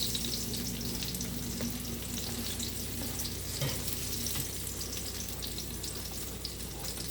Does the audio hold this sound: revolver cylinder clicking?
no